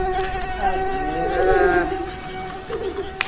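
Steady high mosquito whine hovering close to the microphone, rising and falling slightly in pitch, with some background chatter underneath.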